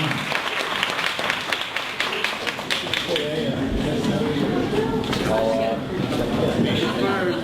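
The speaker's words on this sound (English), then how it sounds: "final round of applause for Henry" Audience applause at a Los Angeles tech meetup talk fills the room with dense, continuous clapping that stays steady throughout, with voices mixed in beneath.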